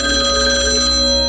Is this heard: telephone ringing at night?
yes